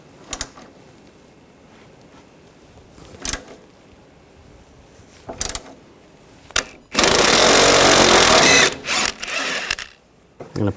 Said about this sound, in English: I'm going to take these two bolts out on the side using a 12mm socket.